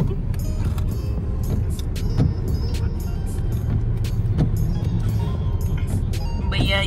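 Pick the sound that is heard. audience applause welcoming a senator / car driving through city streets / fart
car driving through city streets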